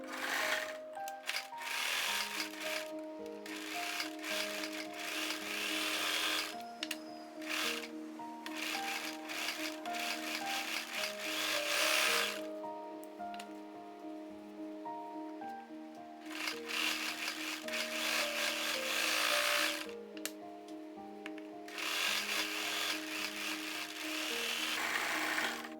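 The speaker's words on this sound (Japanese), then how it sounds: "身ごろの肩にロックミシンをかけます。" An overlock sewing machine serges the shoulder seams of a high-neck vest in several bursts of rapid, buzzing stitching separated by short pauses, close and fairly quiet.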